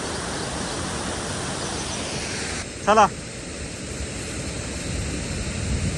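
A waterfall pours in a continuous loud rushing wash throughout, while a person briefly calls out near the middle over the constant roar of water.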